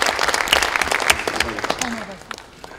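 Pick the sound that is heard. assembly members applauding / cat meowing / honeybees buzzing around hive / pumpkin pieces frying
assembly members applauding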